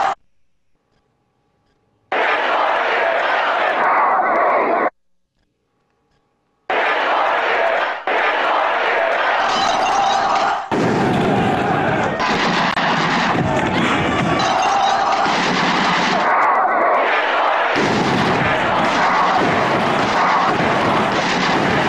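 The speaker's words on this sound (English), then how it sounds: "the second sound collage occurs, which is sounds of protest, sounds of bombing, of firebombing." A sound collage of protest, bombing and firebombing within a contemporary orchestral piece: loud crowd noise and roaring blasts in long dense stretches, broken by two short silences, with shouting voices in the mix.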